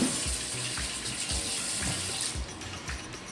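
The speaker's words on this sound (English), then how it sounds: "Now what you're going to do is wash your hands from the dough." Running water from a tap splashes steadily as dough is washed off hands, with soft irregular splatters of hands moving under the stream, close and fairly quiet.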